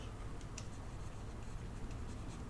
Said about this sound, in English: Because I'm going to write it here.